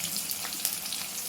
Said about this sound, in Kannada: ಸ್ವಲ್ಪ ಹುರ್ಕೊಳ್ಬೇಕು.